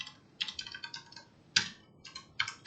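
Quiet keystrokes on a computer keyboard come in short clustered bursts with brief pauses between them, close and alone with no talking.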